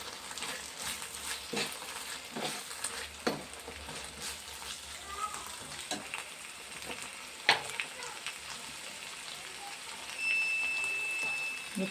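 Curry simmering and frying in a pan, a steady soft sizzle with scattered clicks and stirring knocks, fairly quiet, with faint talk in the background.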